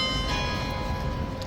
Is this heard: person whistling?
no